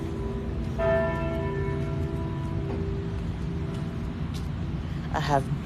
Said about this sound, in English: That is definitely not normal for that many bell rings at 8:30.